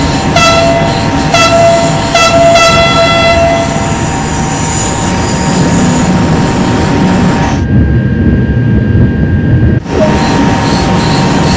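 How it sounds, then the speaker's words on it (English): A TGV Duplex train in Train Sim World 2 rolls steadily past with a loud, continuous rumble, high wheel squeals and a brief horn blast partway through, up close. "Let's take a look now while the train is in motion."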